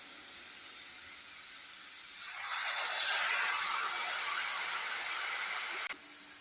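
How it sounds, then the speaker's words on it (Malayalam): Water is poured into a hot pan of millet and sets off a loud hiss that swells quickly, holds steady and then stops abruptly near the end. "അപ്പൊ നമുക്ക് 1/2 ഗ്ലാസ് വെള്ളം ഒഴിക്കാം"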